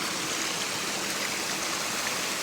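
Mountaineer Falls, a waterfall the Appalachian Trail passes through, pours in a steady, close, full-bodied rush of falling water that holds even and unbroken throughout, with no voices.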